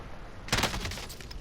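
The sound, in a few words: gunfire in Call of Duty Modern Warfare video game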